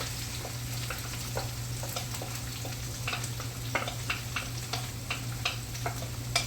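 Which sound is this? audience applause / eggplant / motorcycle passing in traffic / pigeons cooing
eggplant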